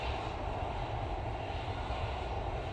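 A plane lands at Manchester Airport on a windy day, its aircraft engine roaring as a steady broadband rumble, fairly distant and unbroken, with no voices.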